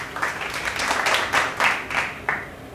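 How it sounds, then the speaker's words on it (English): A round of applause with loud, close clapping in uneven surging bursts, fairly dense and steady, with no talk over it. "Also, give him a round of applause."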